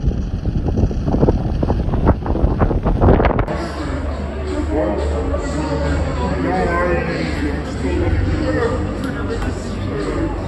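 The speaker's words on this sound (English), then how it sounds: "Guys, it's so windy." Gusty wind buffets the microphone outdoors at an evening formal event, a loud, steady low rumble running throughout, with voices talking over it at the start.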